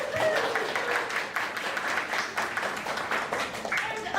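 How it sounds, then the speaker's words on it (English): Audience at a live show-and-tell event applauding, dense continuous clapping from a crowd that stays loud and even throughout, with voices mixed in beneath. "Let's give yourselves a round of applause."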